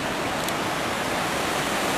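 A river rushes steadily with a dense, continuous broadband roar, loud and close, with no voices or breaks.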